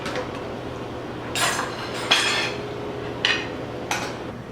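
Utensils clinking against a crock pot as a boneless beef chuck roast is lifted out onto a plate, several short metallic clinks and scrapes spaced over a low steady hum.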